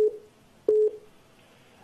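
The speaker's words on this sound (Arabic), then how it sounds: "يا اخي ابو مهند، في تليفون ويتنج عندك، حاول تدوس عليه تفصله عشان تكلمنا" A telephone call-waiting tone on a phone line: a single short steady beep, clear and fairly loud, set between quieter line hiss and faint low tones before and after.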